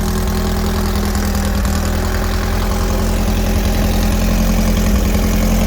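VW sandrail engine idling just after a cold start, a loud, steady, rumbling idle with an even low throb that holds constant throughout, no voices.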